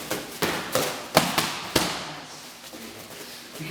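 During pad work with a coach, a push kick and a quick series of punches hit training pads, landing as sharp, close slaps in an uneven rhythm, then trailing off into softer shuffling.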